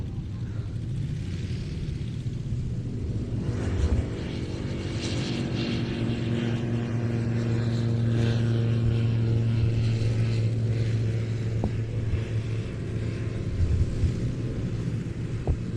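Fieseler Storch light aircraft at an airshow, its propeller engine droning steadily at a distance, a low sustained hum with a slight rise in pitch partway through as it gets airborne.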